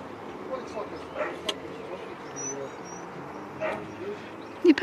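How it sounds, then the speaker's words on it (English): Husky at home giving a few faint, short barks and yips, scattered and somewhat distant over a quiet indoor background. "can hear my wee barking"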